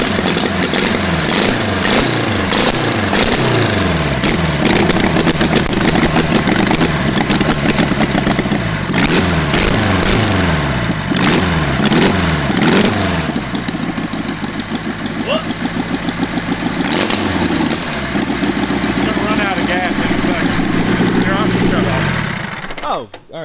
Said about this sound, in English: I'm going to try to crank it again